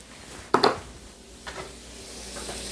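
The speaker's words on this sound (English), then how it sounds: "to the butter that's browning" Butter sizzles and browns in a pan for a sage and nettle sauce. A sharp clatter and burst of hiss comes early, then a softer steady sizzle follows with small stirring knocks.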